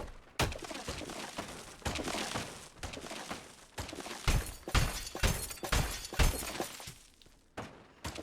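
Glass and tiles shatter repeatedly as a house is destroyed in a video game: dense, crashing bursts of breakage follow one another in quick irregular succession, loud and continuous.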